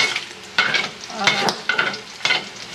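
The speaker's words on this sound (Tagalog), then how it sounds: "Dito ko na rin ito igigisa yung mga rekado niya" Aromatics sizzle in a hot pan while a spatula stirs them for a Filipino mung bean dish with moringa, giving repeated scraping strokes over a soft, continuous frying hiss.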